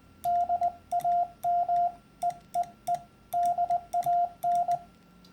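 Hand-sent Morse code CW on a ham radio: a steady mid-pitched tone keyed in uneven bursts of short dits and longer dahs with irregular, ill-timed spacing, clear and fairly close with no talking.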